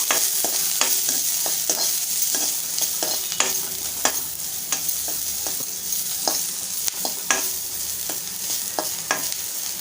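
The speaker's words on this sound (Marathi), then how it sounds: "2 हिरव्या मिरच्या घेतल्या ते टाकूया आणि थोडंसं परतवून घेऊया" Garlic cloves, ginger pieces and green chillies sautéing in hot oil in a pan, a continuous sizzle broken by frequent sharp clicks of a spoon stirring against the pan.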